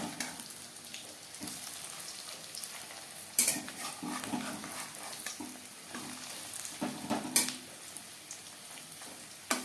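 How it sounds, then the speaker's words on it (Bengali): Fish roe fritters sizzle steadily in hot oil in a pan, a continuous close crackle with occasional sharper clinks of a utensil against the pan. "ক্রিস্পি করে বড়া ভেজে নিয়েছি।"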